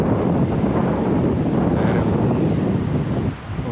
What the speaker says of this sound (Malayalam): കാറ്റടിക്കുന്ന സൗണ്ട്.